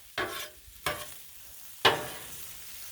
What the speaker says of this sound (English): So let's give things a little stir here.